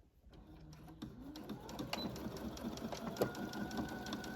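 Sewing machine stitching a 1/8-inch seam on a scrub top, a steady fast mechanical whirr with rapid needle clatter that starts after a brief pause and runs on, close and fairly quiet, no talk.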